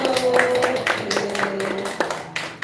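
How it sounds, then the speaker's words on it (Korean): Scattered audience applause in a church gathering after a prayer, a few irregular claps mixed with murmuring voices, fairly close and moderate in volume. "박수"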